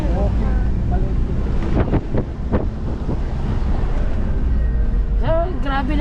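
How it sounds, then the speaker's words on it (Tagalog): Strong wind buffets the microphone outdoors in Bonggabon with a constant heavy rumble, while people talk over it now and then. "So, grabe naman talaga ang hangin."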